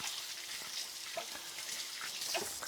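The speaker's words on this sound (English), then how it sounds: "Just rinse my hands off real quick." Hands rinsed under a running kitchen tap while cooking Scotch eggs, a steady close hiss of flowing water with faint splashes, no voices.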